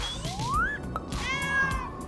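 A kitten meows twice up close, the first a rising drawn-out call and the second a higher, wavering cry, loud and clear with no talking.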